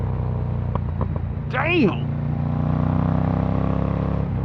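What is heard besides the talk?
Ducati Monster Evo motorcycle engine revving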